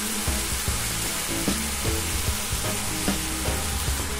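Apples simmer in a pan as liqueur cooks off, giving a steady close sizzle and crackle with soft bubbling and occasional stirring clinks, loud and continuous with no voices.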